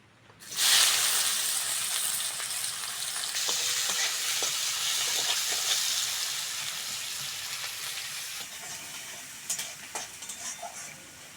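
Chopped onion hits hot oil with a sudden loud burst of sizzling that settles into a steady frying hiss, with a few stirring clicks near the end and no speech.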